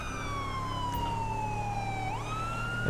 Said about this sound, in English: I thought you guys can hear the siren. Sounds awesome. I love this siren.